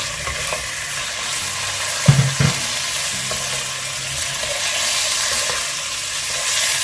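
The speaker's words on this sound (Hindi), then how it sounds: "इसमें आपको फ्राई करना है चिकन को कि इसका कलर चेंज हो जाए।" Chicken frying in a pan for Pakistani-style chow mein, a dense steady sizzle with a couple of knocking stir strokes near the middle, close and loud, without speech.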